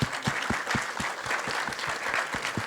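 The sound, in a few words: audience clapping at trailer launch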